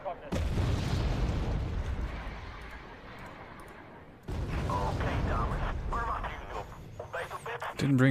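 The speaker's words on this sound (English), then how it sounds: "Oh, lovely bombs, yay!" Bombs explode in the Cold War strategy game Wargame Red Dragon, two long, loud rumbling blasts, the second starting abruptly midway and trailing into a radio-like crackle.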